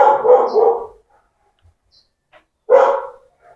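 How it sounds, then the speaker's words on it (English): A street dog in Ecuador barks outside, two loud separate barks about two seconds apart with quiet in between, and no talking. "Sorry about the dog again."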